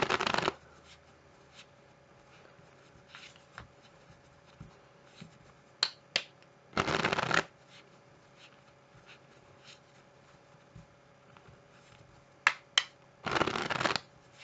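Playing cards are shuffled for a strip-cut false shuffle, three separate bursts of riffling with sharp single card snaps scattered between them in a quiet room.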